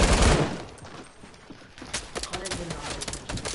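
Gunfire coming from both sides in the Fortnite video game, a loud burst at the start followed by a steady run of rapid shots, with voices talking throughout.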